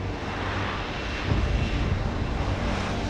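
A helicopter in Deus Ex: Human Revolution gives off a steady, loud broadband engine and rotor roar that stays constant throughout.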